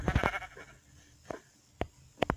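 Sheep bleat in a video game farm scene, a few short separate cries spread across a couple of seconds, fairly close with quiet gaps between them.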